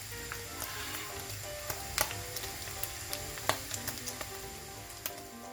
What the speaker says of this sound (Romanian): Carnea rumenită face niște sunete specifice